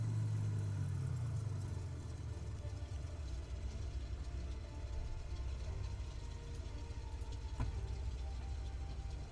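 A Cessna 206 floatplane's piston engine drones steadily in Microsoft Flight Simulator, a continuous low hum that eases slightly after the opening seconds and carries on evenly, with no voices.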